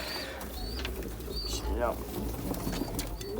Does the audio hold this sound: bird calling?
yes